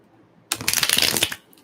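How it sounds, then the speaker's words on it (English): A deck of tarot cards is riffled in one quick, crisp shuffle lasting under a second, close by, with quiet before and after. "Shuffle one more time."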